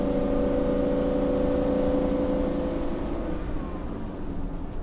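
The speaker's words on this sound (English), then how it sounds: "Oh yeah, you hear that V10? Has the Banks power kit on it. Let me let it upshift." A 1999 Fleetwood Southwind RV's V10 engine with a Banks power kit, heard from inside the cab as a steady, moderately loud drone while accelerating, easing off as it upshifts.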